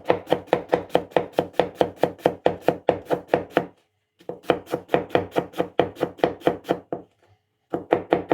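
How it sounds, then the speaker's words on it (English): Rapid, steady knife chops slicing radicchio thinly on a cutting board, close and crisp, in two long runs separated by a short pause, with no talking. "Now you have to slice them really thin, because they have to melt while you cook them."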